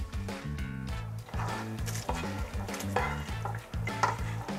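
Lentils with chorizo and sofrito stirred in a pot, a spoon scraping and knocking against the metal in a steady, busy rhythm, close and fairly loud, with a low simmering bed underneath.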